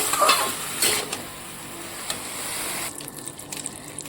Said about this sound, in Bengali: এদিকে হচ্ছে বেগুন ভাজাটা বসিয়ে দিয়েছি